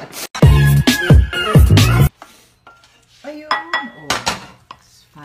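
Scrambled eggs cooking in a pan as a utensil clanks and scrapes against the metal, loud close clatters in quick bursts, then softer scraping with a voice talking over it.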